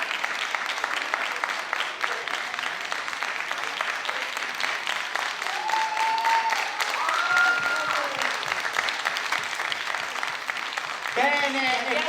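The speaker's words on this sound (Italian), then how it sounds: "Prendi pure il tuo applauso." Audience applause at a Neapolitan talent show evening as the winner is called up, dense steady clapping throughout, with faint voices and brief musical tones rising underneath the crowd noise.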